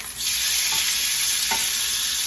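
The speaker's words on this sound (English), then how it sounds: "The steak is sizzling." Steak sizzles steadily on a grill with rosemary, a constant close hiss with a couple of faint pops, no voices.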